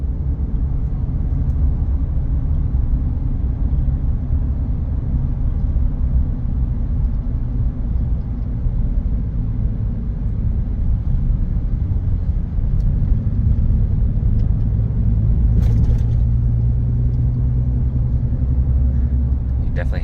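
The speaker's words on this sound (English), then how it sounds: "Truck drives straight though." A lifted 2022 Ram 2500 Laramie pickup truck drives along, its steady low engine and road rumble filling the cabin without a break, with a brief higher scrape or rattle partway through.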